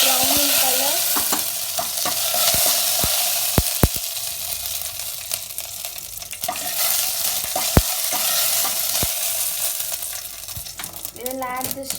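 Urad dal and a red chilli fry in a pan, a steady close sizzle with occasional stirring scrapes and small clinks throughout.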